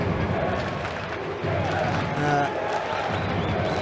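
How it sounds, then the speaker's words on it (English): A partisan home crowd at a bare knuckle fight in Arena Stožice, Ljubljana, roaring and cheering for a local fighter, a loud continuous wash of voices throughout, with commentary talk over it. "hear the partisan crowd, obviously in favour of homeboy Jurišić"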